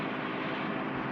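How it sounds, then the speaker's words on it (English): A helicopter flying overhead gives a steady, loud engine and rotor drone that holds without change for a moment. "that's his helicopter. Look."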